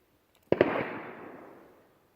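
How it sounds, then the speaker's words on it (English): A semi-automatic pistol fires subsonic ammunition: a close shot with a sharp crack, a quick second transient right behind it and a long decaying echo afterward, with no talking. "As far as the sound goes, there's not much difference in the report of the gun."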